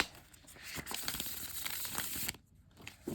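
A tarot deck with a rose petal card finish is riffle shuffled close up, giving a quiet, fast papery ripple of cards that ends sharply, followed by a few soft taps as the deck is squared.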